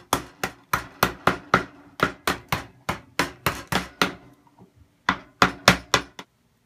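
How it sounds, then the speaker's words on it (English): Hammer striking a flathead screwdriver to gently tap out small cuts in cigar box wood, forming a lid recess for a cigar box guitar; a steady series of sharp, close knocks in quick rhythm, a brief pause, then another run of taps. "With your flathead screwdriver and your hammer, you can go through and gently tap out all these little cuts that you made"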